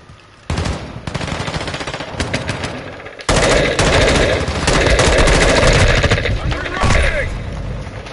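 Automatic gunfire from a gun in Call of Duty Modern Warfare 2 on PS5, loud rapid bursts filling most of the stretch with a brief lull, booming impacts and game effects mixed in, a voice talking over it.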